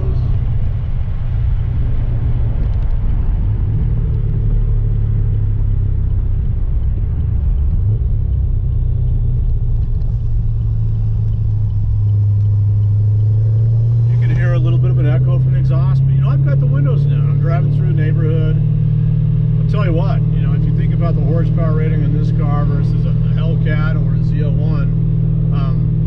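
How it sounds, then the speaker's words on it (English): A 2010 Chevrolet Camaro SS, fitted with a Kenne Bell 3.6L supercharger, cruising smoothly on an evening drive, its steady low engine drone and road rumble running throughout while someone talks over it. "I've got one hand on the wheel, cruising along. Drives nice, drives smooth."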